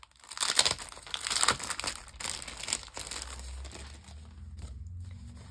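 Sheets of craft paper are handled and crinkled close up, with bursts of crackling and rustling that fade into quieter shuffling near the end, no talking.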